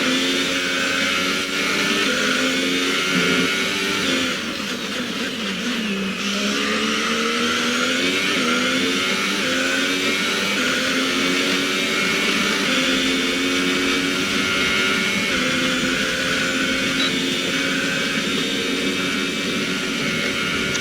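A Formula 1 car engine screams through gear changes during a practice lap at the Brazil circuit in F1 2018, with rising and falling high-pitched whines and brief drops at each shift, loud and continuous.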